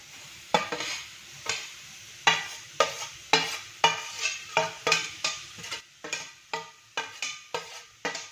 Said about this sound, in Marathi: आपण गाजर किस टाकून परतून घेऊया।